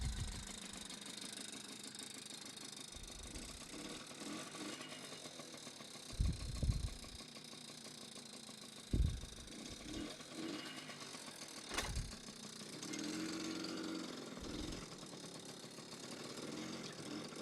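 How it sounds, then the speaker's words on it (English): A 1981 Honda NC50 Express moped engine runs at a low, quiet idle with a faint mechanical rattle, broken by a few short louder thumps and bursts. "taking another ride on the 81 Honda NC50 Express, and away we go"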